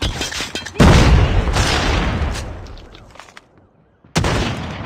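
A Semtex grenade detonating in a first-person shooter game, heard as sudden loud booms with rumbling decay, followed after a brief quieter gap by another sharp blast, close and punchy.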